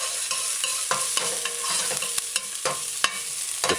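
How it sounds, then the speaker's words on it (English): Mashed garlic stirred and sautéed in a pot for callaloo, a soft continuous sizzle broken by repeated scraping clicks of the spoon against the pot, close and fairly quiet with no talking. "add mashed garlic. Stir it in,"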